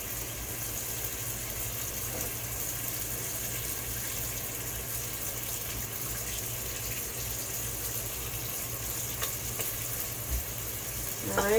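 Bacon sizzles in a pan while cooking rabbit, a steady crackling hiss held at an even level throughout, with a louder burst at the very end.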